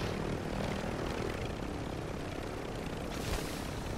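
A helicopter in the video game Warzone drones steadily with a broadband rotor and engine roar, loud and continuous throughout, with no voices over it.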